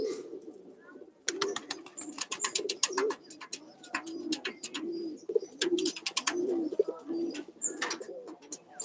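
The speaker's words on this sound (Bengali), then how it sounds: "পায়রাটা দেখ দেখ তো জিৎ কেমন হবে ভাই" Pigeons coo repeatedly at close range during a morning release, low rolling calls running steadily throughout, mixed with sharp clicking taps.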